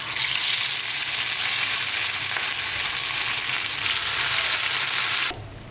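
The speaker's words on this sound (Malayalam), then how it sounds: "ഇനി നമുക്കിത് ഓരോന്നായിട്ട് ചൂടായിട്ടുള്ള എണ്ണയിലോട്ട് മാറ്റാം." Shaped coconut rice cutlets fry in hot oil with a loud, dense, crackling sizzle that holds steady for several seconds and then drops away abruptly near the end.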